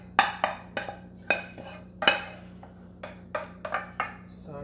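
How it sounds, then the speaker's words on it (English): Mac and cheese scooped into a container: a series of sharp clinks and scrapes of a utensil against a dish, spaced irregularly, close and moderately loud over a low steady hum. "now I'm just going to scoop this in"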